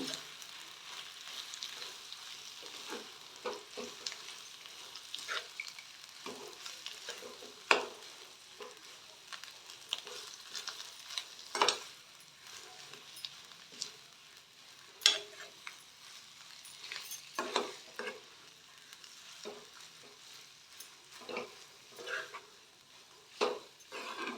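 Potato palya being stirred and mixed in a pan, a soft continuous sizzle broken by repeated scraping clacks of the spoon against the pan, close and steady, with no talk.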